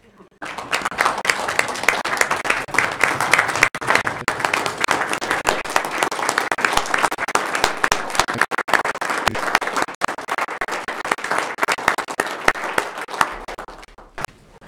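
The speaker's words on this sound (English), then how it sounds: "So I'm just one more time going to ask all of you to join me with a round of applause." A county commission meeting audience gives a sustained round of applause, steady crowded clapping for over ten seconds with faint voices beneath, tapering off at the end.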